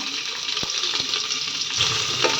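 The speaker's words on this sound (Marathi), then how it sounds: "कांद्याला गोल्डन कलर येईपर्यंत तो तेलामध्ये नीट फ्राय करून घ्यायचा" Chopped onion frying in oil inside a pressure cooker, a steady bright sizzle with a couple of sharp scraping stirs near the start and a thicker burst toward the end.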